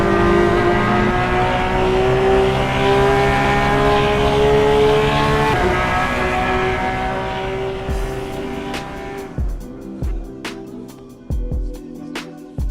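Ferrari 488 GTB engine in the Assetto Corsa racing game on LA canyon roads, a steady loud droning roar with harmonic tones that drops off near the end into choppy bursts and gear shifts.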